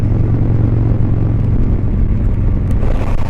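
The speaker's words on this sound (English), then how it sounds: "I love the Milwaukee engines. This is the 107" A motorcycle powered by a Milwaukee 107 V-twin engine runs loud and close, with a deep continuous rumbling drone and no voices over it.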